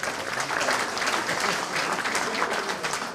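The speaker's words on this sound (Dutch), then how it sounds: "ook applaus voor Wim." Sustained audience applause at a municipal election debate in Bladel, a dense, steady wash of many hands clapping at full strength from start to finish, with no clear speech over it.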